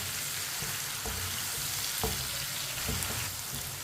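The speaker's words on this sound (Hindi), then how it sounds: "टमाटर को भी 2 मिनट के लिए पका लेंगे मिक्स करके" Chopped tomatoes fry in a pan for white chana curry, giving a steady close sizzle with a few soft stirring knocks and no talk.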